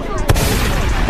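A football struck hard on a penalty kick gives a single sharp, loud thump near the start, set against a busy, noisy background with voices around.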